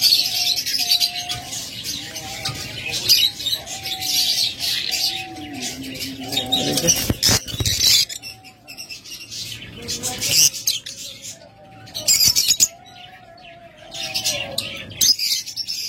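Caged lovebirds, budgerigars and cockatiels at a bird sale chirp and tweet in bright, busy bursts, punctuated by a few sharper calls and brief loud clatters, with short quieter gaps.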